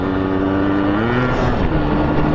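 Yamaha RX135 motorcycle engine running steadily while riding on a main road, a continuous loud two-stroke drone with sustained harmonic tones and some wind rush, no talk.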